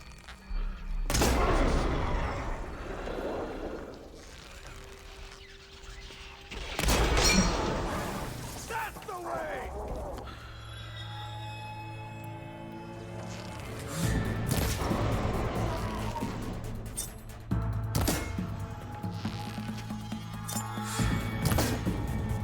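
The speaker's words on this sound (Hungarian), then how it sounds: "Ó, de jó, hogy a páncélokat lövöldözöm le róla." Armor plates are shot off a machine in Horizon Forbidden West: repeated bursts of gunfire, heavy booms and crashing impacts over a constant rumbling game soundscape, with talk appearing only faintly.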